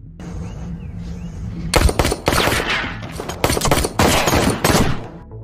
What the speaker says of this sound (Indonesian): Namun keadaan malah berbalik, Johanlah yang justru sekarat, ditembak oleh Tito